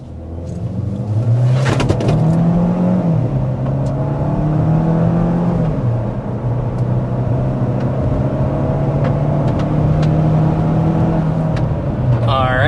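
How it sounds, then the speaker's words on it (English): A 2025 Chevy Equinox ACTIV under hard acceleration up a slight incline to 60 mph, engine drone rising steadily in pitch and holding loud and close throughout, with brief shifts in tone as it pulls. "we want to go ahead and start with a hard acceleration"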